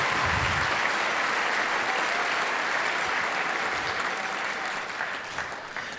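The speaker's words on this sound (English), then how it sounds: "So let's give it a round of applause" Audience applause at a band concert during a Gathering of the Bands event, a dense, steady wash of clapping that stays loud throughout and eases slightly near the end.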